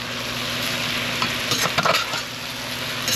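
Onions are stirred and cooked in a pan for a tomatillo pork stew, with a steady close sizzle and a few brief scraping stirs midway.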